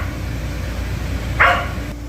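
A single short dog bark rings out midway, a little distant, over a steady low hum.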